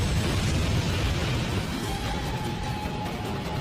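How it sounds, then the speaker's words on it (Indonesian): A big explosion in the Douluo Continent animation roars as a dense, sustained low rumble that slowly fades, loud and without talk. "Sementara Mang Hojun sudah bersiap untuk menyulutnya demi memicu ledakan besar guna membakar tim Dewa Iblis."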